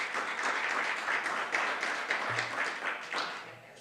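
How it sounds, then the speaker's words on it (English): Audience at a county commissioners' meeting applauds an honoree, a dense, steady round of clapping from a room of people that tapers off at the end. "Let's give her another round of applause."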